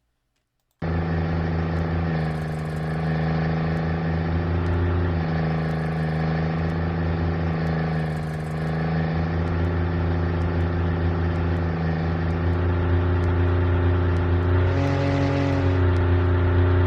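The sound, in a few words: synthesized car engine sound made in Unreal MetaSound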